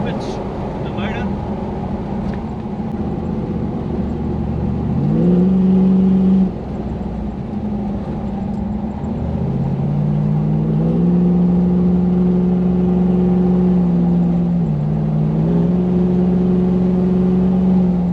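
The 1UZ V8 in a Toyota LN106 Hilux with automatic transmission, pulling uphill with backfire trouble: a steady mid-pitched engine drone whose pitch shifts up and down with gear changes, loud and close throughout.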